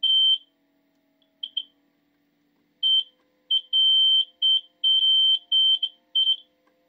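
Vintage GE AMX-II mobile 110 kV X-ray unit's alarm running on 24 volt DC: a loud, piercing electronic beep in short bursts, first sparse, then a rapid irregular string of shrill pulses, with no talking.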